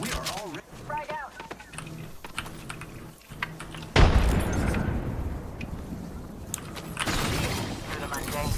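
A frag grenade goes off in a shooter video game, one loud sudden blast followed by a long rumbling debris wash, preceded by rapid keyboard typing and a voice talking.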